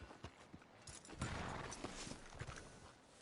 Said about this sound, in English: Can't you control that damn horse?